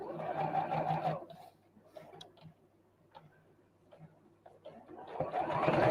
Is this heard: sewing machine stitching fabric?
yes